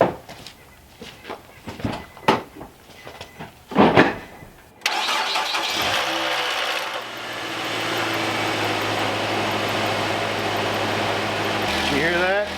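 An engine that has sat unused for a while cranks several times, then catches and settles into a steady, smooth idle that runs to the end, with a brief voice before it starts.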